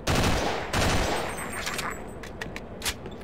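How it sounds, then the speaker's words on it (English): Machine gun fire in the Sven Co-op video game, a loud close burst of rapid shots at the start that thins into scattered sharper reports and trailing echoes over a few seconds. "I don't remember the machine gun being like that in the original Half-Life"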